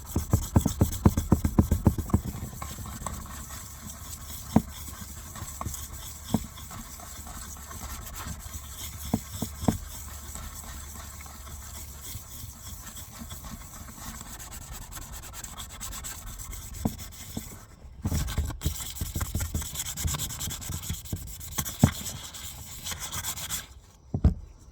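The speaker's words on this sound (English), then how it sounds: "now we're going to actually sand it down" Steady scratchy rubbing of sandpaper or an abrasive against an axe blade during sharpening, continuous and fairly quiet, with occasional knocks and handling taps.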